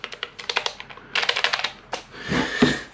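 Keys on an ASUS ROG keyboard are pressed in quick bursts of crisp, close clicks and clacks, a run of taps, a pause, another run, then a softer rustling handling sound.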